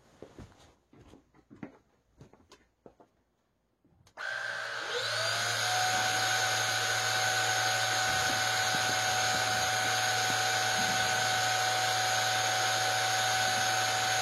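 A vacuum cleaner fitted with a mid-size nozzle switches on and runs steadily on low power, a loud continuous motor whine with a humming drone, after a few seconds of quiet handling noises.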